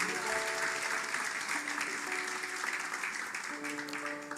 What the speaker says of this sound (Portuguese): E se você pode, aplauda o Senhor mais uma vez